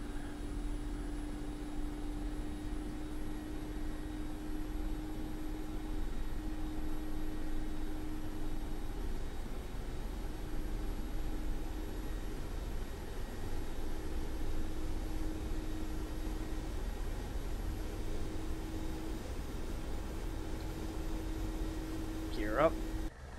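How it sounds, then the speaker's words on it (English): Steady turbine whine and rotor drone of an Mi-24P Hind helicopter in the DCS flight simulator during a rolling takeoff, a constant hum with a slight rise near the end, no voices. "Going to do a rolling takeoff."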